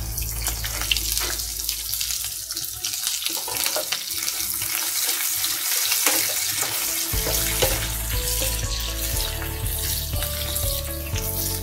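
Shallots fry in hot oil in a pan for a ginger curry, giving a loud, continuous sizzle and crackle close to the microphone. The sound is steady and carries no talking.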